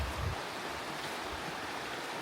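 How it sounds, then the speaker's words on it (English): A river near Mt. Hood rushes in a steady, broadband wash of flowing water, continuous and fairly close, with no voices over it. "Alright, we found the river."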